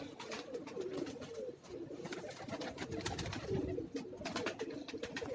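King-size silver green pigeons coo in low, rhythmic, throaty phrases close by, repeating throughout against faint ambient noise.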